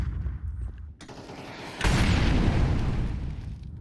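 Galil rifle gunfire in a Counter-Strike 2 professional match on the Nuke map, heard as a dense roar of shots and booms that swells sharply midway and stays loud to the end, with no talk over it.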